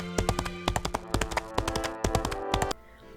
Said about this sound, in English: The galloping sound effect doesn't match at all what the horse is doing